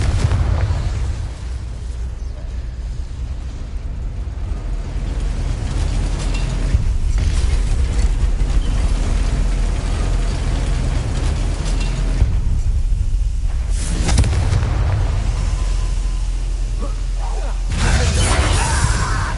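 Bombarda and Confringo spell blasts in the game Hogwarts Legacy, a dense run of booming explosions and shattering bursts layered over a continuous loud rumble, with brief lulls before fresh blasts erupt.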